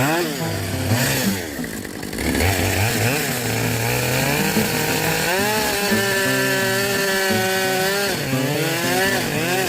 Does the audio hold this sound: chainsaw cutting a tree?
yes